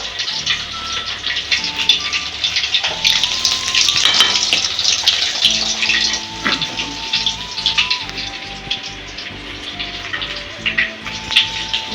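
Chicken fry masala sizzles in hot oil in a home kitchen, a continuous close hiss and crackle with a faint steady tone underneath and no talk.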